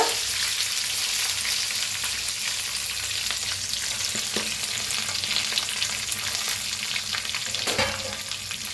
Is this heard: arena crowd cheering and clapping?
no